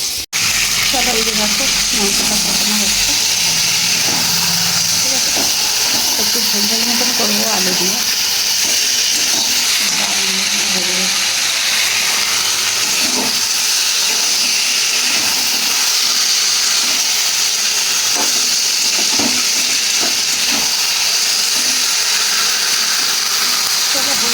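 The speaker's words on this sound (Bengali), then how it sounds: "এই যে ডিমটা ভাজা হচ্ছে" An egg frying in a pan on a home stove gives off a steady, loud sizzle that runs the whole way through, with someone speaking over it now and then.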